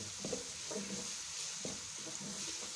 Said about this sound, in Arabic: ننزلهم اهو وهديهم بقى تقليبه كده